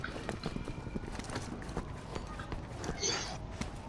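Horses trot in the video game Resident Evil 6, a quick run of clip-clop hoofbeats with game noise around them, mid-loud and continuous.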